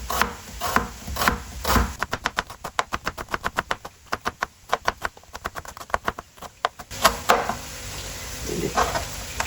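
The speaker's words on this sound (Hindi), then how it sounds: "इनको बिल्कुल बारीक बारीक काट लेंगे।" Two small onions being finely chopped with a knife on a board, giving a fast run of sharp, evenly spaced taps with a few slower cuts before and after.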